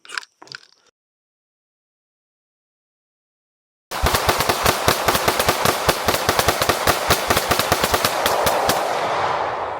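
A Glock 45 pistol fires a loud, rapid string of shots using a trigger bump, the sharp reports packed tightly together for several seconds after a short noise and a quiet pause.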